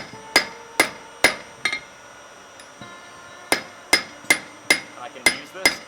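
Hand hammer blows on hot metal over an anvil during blacksmith forging, drawing out a point: sharp ringing strikes in two bursts, four evenly spaced hits, a pause, then six more, loud and close.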